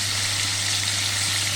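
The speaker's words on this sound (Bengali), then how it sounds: "দেখো মাছ ভাজা বসিয়ে দিয়েছি" Fish frying in a pan, a close, steady, even sizzle with a low hum beneath it and no voices.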